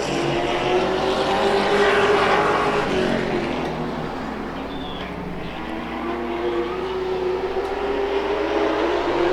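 Race cars lapping a track late in a feature race, their engines a continuous distant drone that swells and fades as the pack passes, heard from afar with no nearby voices.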